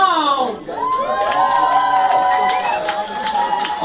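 An audience cheers and whoops for a band at a battle of the bands in Montreal, high excited shouts and yells ringing out close with crowd noise beneath.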